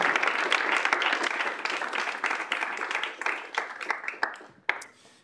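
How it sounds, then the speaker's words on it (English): Round of applause at a university student senate meeting, many hands clapping in a dense burst that gradually thins and fades over several seconds, ending in a few scattered claps. "So if we could give them a round of applause."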